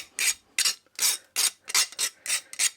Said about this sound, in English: just get the burr off with a file